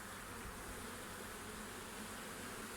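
Buzzing of a wild honeybee swarm clustered on a hive front wall in August, a dense, continuous hum with no pauses, steady and fairly close throughout.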